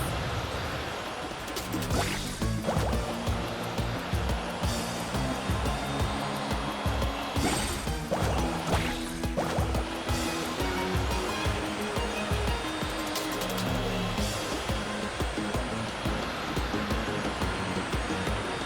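Water rushes continuously as a character carves across waves while surfing in a video game, a loud, steady, hissing roar of surf that runs for nearly twenty seconds with faint rhythmic background sound underneath.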